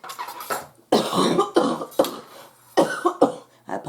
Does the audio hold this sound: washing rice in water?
no